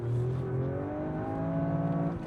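Toyota GR Yaris engine pulling through a U-turn in expert sport mode, a loud, continuous drone that climbs steadily in pitch as it accelerates, with no voices over it.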